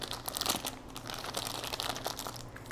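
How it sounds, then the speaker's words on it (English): Plastic piping bag filled with frosting being folded and handled, close crinkling and rustling bursts, moderately loud with no talking. "So we've got our frosting in our bag. Now we're going to carefully bring that bag up,"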